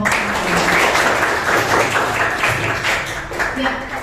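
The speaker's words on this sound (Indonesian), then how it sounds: "tepuk tangan buat kelompok 1" Classroom students applauding group 1 after an industrial engineering class presentation, a steady wash of clapping mixed with voices and chatter throughout.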